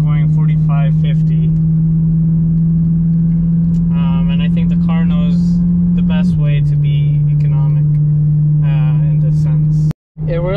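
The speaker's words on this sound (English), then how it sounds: "As you can see on the automatic mode, it does shift very quick up in gears." BMW E92 M3 with V8 engine in automatic mode, shifting up through gears quickly: a loud steady engine drone that drops in pitch at one gear change, with talk over it and a brief cut near the end.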